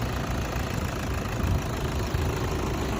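A 2015 Toyota Hilux Vigo Prerunner double cab with a 2.5 diesel VN turbo engine idling, a steady low rumbling drone with a faint rhythmic diesel knock, close and continuous with no talk.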